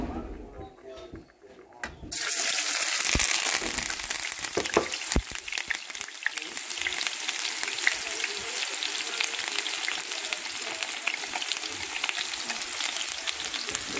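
Steak and vegetables hit hot oil after a quiet start, bursting into a loud, steady sizzle and spatter that runs continuously to the end.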